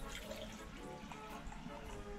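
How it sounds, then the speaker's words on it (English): Water poured into a 4-inch glass snow globe, a faint, steady trickle and fill heard close up with no break. "we're going to go ahead and put some water in this globe"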